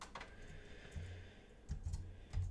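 Keystrokes on a computer keyboard, quiet and fairly close, coming in short irregular bursts with pauses between them and no talking.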